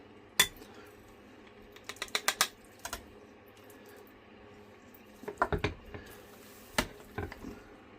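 A spoon scraping and clinking against a baking dish while scooping potatoes au gratin, made with a classic béchamel sauce. Several short, close knocks come in small bursts separated by quiet pauses.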